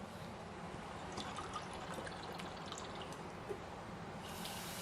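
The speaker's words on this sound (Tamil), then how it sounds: "இதில் ஒரு 4 டம்ளர் தண்ணி ஊற்றிடலாங்க." Four tumblers of water poured into a pressure cooker holding ground moong dal, a steady close splashing rush that runs for the whole few seconds with no voices.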